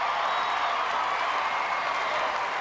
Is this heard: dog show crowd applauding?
yes